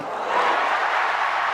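Ecstatic crowd at a Wimbledon centre court tennis match, a steady broad roar of cheering and applause that stays loud and dense throughout with no pauses.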